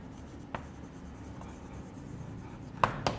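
Marker or chalk writing on a board during a lesson, faint steady scratching with a few sharper taps and strokes near the end, quiet and with no talk.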